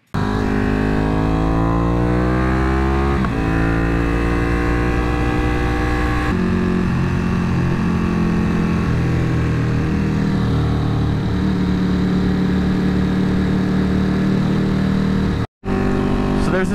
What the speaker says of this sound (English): There's this guy up here popping wheelies, going up and down traffic